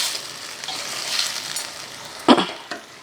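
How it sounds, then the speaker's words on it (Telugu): Already-boiled potatoes fry in a little oil for a potato kurma, a soft steady sizzle running throughout with one sharp utensil clink near the end. "ఇలా కొంచెం నూనెలో ఇలాగా వేగితే బంగాళదుంప పచ్చి వాసన పోతుందండి"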